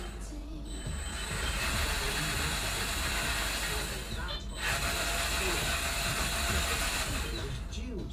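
An R2D2 drive runs on a 360 kV brushless motor with a 26:1 gearbox and an 8:1 gear set. It gives a continuous close mechanical whir with ratcheting gear chatter, and a brief dip midway.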